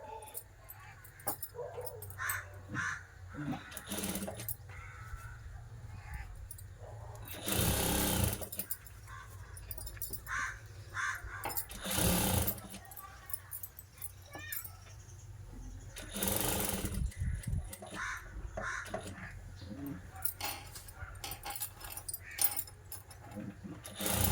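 A sewing machine stitches the back neck design of a blouse in several loud bursts of rapid stitching, separated by quieter pauses with a voice speaking.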